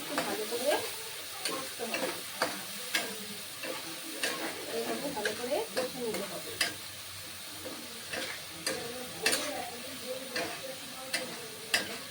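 Spiced food frying in a pan sizzles steadily while a spoon stirs it, giving regular light scrapes and taps against the pan, close by and fairly quiet.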